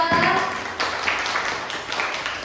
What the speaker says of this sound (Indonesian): beri tepuk tangan dulu untuk kelompok 2.